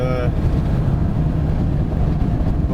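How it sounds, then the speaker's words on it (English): Strong wind buffets a vehicle on a long road trip across flat plains, producing a steady loud low rumble with wind noise hitting the microphone throughout. "we're battling against this wind"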